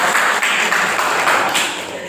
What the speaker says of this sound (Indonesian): Tepuk tangan untuk Fafa.